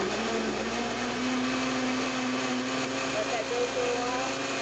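A blender runs steadily, whirring and pureeing a starfruit and ginger drink with a constant loud motor drone throughout.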